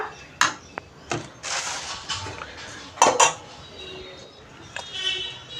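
A ladle clinks and scrapes as it stirs milk in a pot. The metallic knocks come in uneven bursts over a low background hum, with faint voices nearby.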